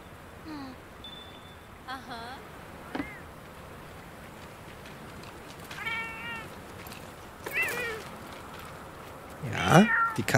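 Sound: cat meowing in video game Monster Hunter World

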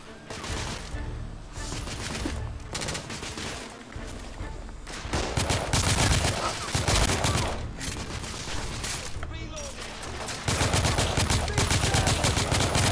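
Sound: gunfire from shooting in The Order 1886 video game

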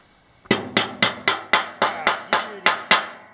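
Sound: tapping a piece into place with a hammer

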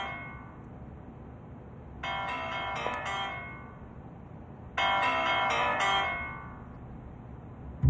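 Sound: mobile phone ringing in a classroom

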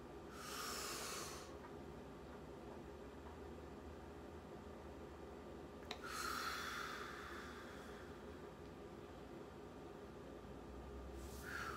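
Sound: person breathing in and out slowly

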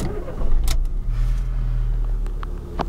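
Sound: Fiat Palio 2008 car engine starting

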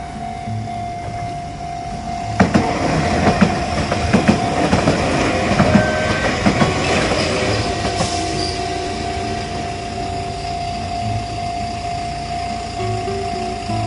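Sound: Enoden electric train passing

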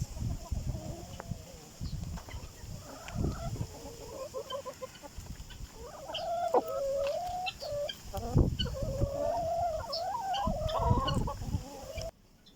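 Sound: chickens clucking

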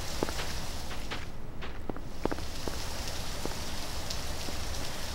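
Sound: rain falling in Garry's Mod video game horror map

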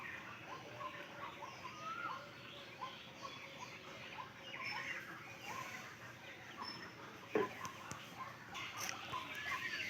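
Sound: birds calling in a garden at dawn

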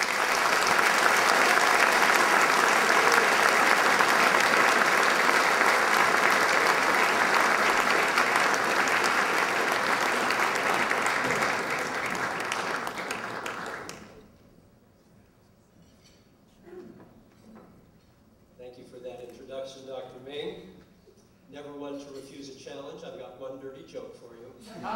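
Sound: audience applause welcoming a speaker

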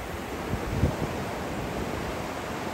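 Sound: ocean waves breaking on the beach

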